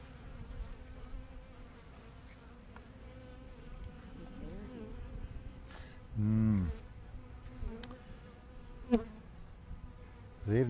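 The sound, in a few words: honeybees buzzing while being brushed off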